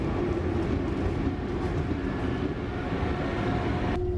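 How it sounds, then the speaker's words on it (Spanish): Commuter train on the São Paulo airport line rolling through a station at rush hour, a steady loud rumble of wheels and wagons with a low hum, continuous throughout with no talk. "justo llegó un tren que me servía para llegar a la estación Brás"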